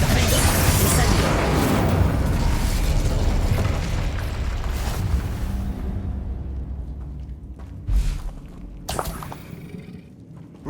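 A Bombarda spell explosion in Hogwarts Legacy, a loud booming blast with a rumbling roar that slowly fades, followed by a couple of smaller bursts and pops.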